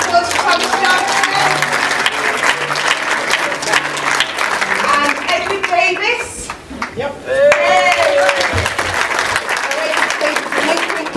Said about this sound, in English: can we all have a round of applause for Thomas Johnson?